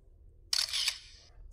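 A single camera shutter sound effect, a bright crisp mechanical click-and-whir like a single-lens reflex camera, fairly loud and alone against near silence, with a short second click starting at the very end.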